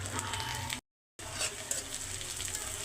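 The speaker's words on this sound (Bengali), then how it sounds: "দিয়ে দিলাম রসুন কুচি, তারপরে হচ্ছে পেঁয়াজ কুচি, কাঁচামরিচ কুচি।" Chopped garlic, onion and green chili sizzle steadily in hot oil as a tempering for greens, a dense close crackle that drops out briefly and then resumes.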